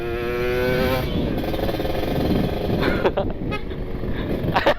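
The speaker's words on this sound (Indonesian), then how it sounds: "Klakson aja." A motorcycle horn honks with a thin, toy-like toot over a running engine of a modified motorcycle with an open air filter, followed by engine rumble and road noise.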